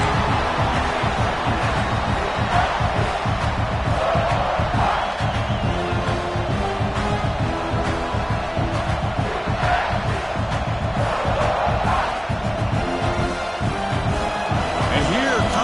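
Loud, continuous stadium crowd roar in College Football 26, rising and swelling throughout as fans make noise for a defensive red zone stand, with no one speaking over it.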